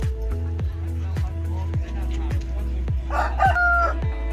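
A rooster crows at a rural home engagement gathering in Thailand, a drawn-out call rising over a steady low hum and repeated dull thumps, moderately close.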